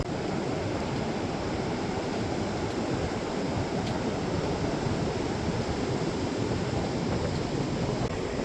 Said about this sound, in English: I'm getting some wind on this beach